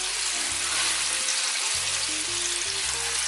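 Black fin tuna sears in a hot pan with a loud, continuous broadband sizzle, steady and close throughout, joined by faint low tonal hum from the kitchen beneath it.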